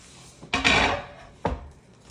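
A knife cutting up a ham steak on a board in a kitchen, two distinct close chopping strikes about a second apart, the first louder with a brief scraping tail, in an otherwise quiet room.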